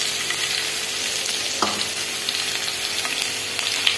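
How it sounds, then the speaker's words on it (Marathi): Garlic fries in hot oil with cumin and mustard seeds, a steady dense sizzle and crackle that holds evenly throughout, close and loud with a faint stir or scrape midway and no voices. "त्यामध्ये घालणार आहोत लसूण आणि आपल्याला लसूण छान खरपूस काढून घ्यायचं आहे"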